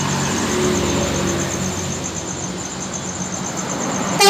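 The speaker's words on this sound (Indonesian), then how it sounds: "Ya, terpantau bus Medan Jaya." A Medan Jaya bus passes with a steady, fairly loud engine rumble and road noise that holds throughout, with no talk over it.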